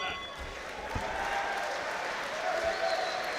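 Boxing crowd applauding between rounds at a 6x3 professional bout, a steady wash of clapping and crowd noise at moderate level throughout.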